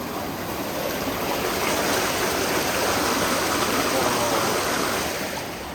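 Fast-flowing water rushes loudly and steadily at a pond in Milford, Connecticut, a broad continuous roar close to the microphone with no pauses.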